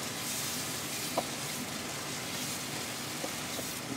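Mutton liver (kaleji) with masala fries in a pan, giving a steady low sizzle throughout with a couple of faint clicks, fairly quiet and with no talking.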